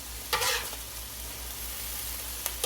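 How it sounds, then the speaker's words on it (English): Ground beef browning on a hot griddle with a spatula stirring it, giving a steady low sizzle and a couple of brief scraping bursts near the start and the end. "I'm going to give this a couple minutes just to finish kind of browning up on the beef"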